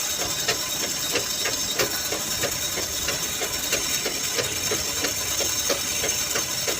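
A foot-powered treadle sewing machine winds a bobbin, giving a steady rhythmic knocking and whirring with evenly spaced mechanical clicks about twice a second over a constant hum, close by and without talk.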